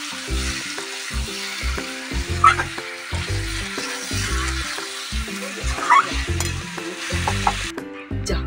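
Potato and jackfruit curry being stirred in a hot pan, with steady sizzling under repeated scraping strokes of a spoon that come in a close, loose rhythm throughout.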